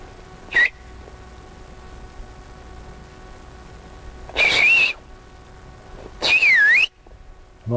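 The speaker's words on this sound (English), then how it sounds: "you want me to whistle and make it stand up?" Three sharp human whistles ring out alone against quiet outdoor hiss while hunting groundhogs: a brief chirp, then two longer wavering whistles a couple of seconds apart.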